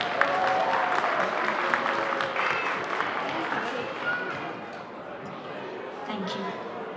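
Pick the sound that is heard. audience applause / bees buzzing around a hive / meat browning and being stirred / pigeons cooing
audience applause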